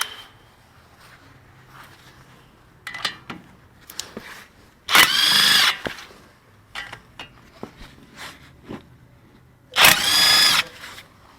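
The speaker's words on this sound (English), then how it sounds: "15mm bolts on the caliper off to get your caliper out of your way" Power impact tool with a swivel socket backing out the 15mm brake caliper bolts on a Ford Explorer/Ranger 4x4 front hub: two loud, sustained whirring bursts about a second long, separated by scattered clanks and tool handling.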